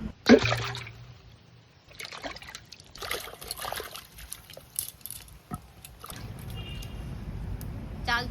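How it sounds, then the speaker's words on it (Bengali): Chalta (elephant apple) fruits being rinsed in a container of water outdoors in a village, with intermittent splashes, drips and trickles, a sharp knock near the start and a steadier wash of water toward the end. "এই চালতাগুলো এখন সুন্দর করে ধুয়ে নেব"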